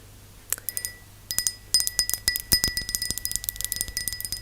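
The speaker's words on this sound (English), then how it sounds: "This is the top of a little glass jar that came in the apartment that I am renting here in Egypt." Glass lid of a small glass jar in a rented apartment in Egypt tapped up close, a quick series of bright ringing clinks with short pauses between, each strike chiming clearly over near silence.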